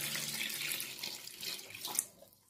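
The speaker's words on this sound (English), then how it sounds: "Add our water," Water pours and splashes steadily into a cooking pot holding washed catfish, a continuous bright rushing that thins out near the end, with no voices.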